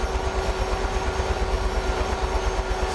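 UH-1H Huey helicopter engines winding down in Microsoft Flight Simulator, a steady loud turbine drone with a constant whine, no voices over it.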